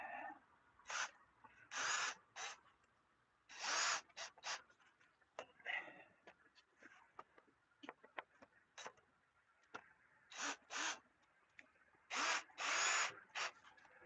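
Power drill driving screws into a wooden bed platform, heard as a series of short whirring bursts of varying length separated by quiet gaps, close by and moderately loud, with no talking.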